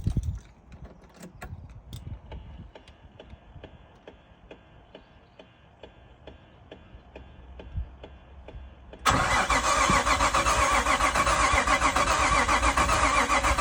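A Nissan R33 Skyline is cranked but fails to fire: a quiet stretch of rapid, evenly spaced ticking and clicking, then a sudden loud, sustained starter whirr and engine churning that continues to the end, close by.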